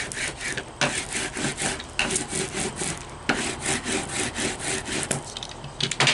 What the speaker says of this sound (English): Give it a good rub down again.